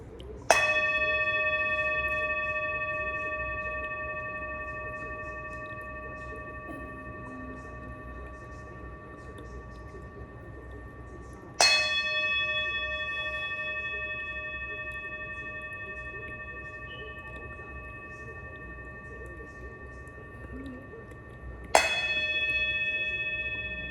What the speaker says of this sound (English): as I hit the bell 4 more times